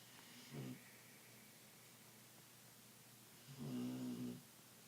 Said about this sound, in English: my son's puppy is snoring in the background